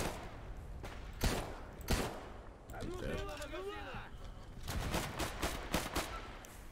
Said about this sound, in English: Someone blasting off a pistol.